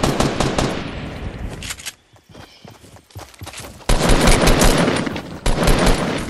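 Loud rapid automatic gunfire in a Fortnite match, a long burst that stops abruptly, leaving a quieter gap with scattered footsteps and clatter, then another sustained volley and a final burst.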